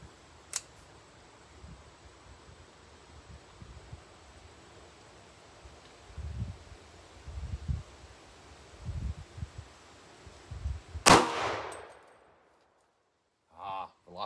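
A single sharp, loud report from an 8.6 Blackout rifle firing a Barnes 225 grain TTSX round into a ballistic gel block rings out and decays quickly, after faint rustling and handling noises.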